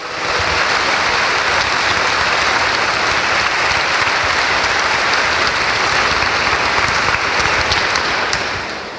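A church congregation claps in loud, sustained applause after a scripture reading, dense and continuous from start to end before tapering slightly.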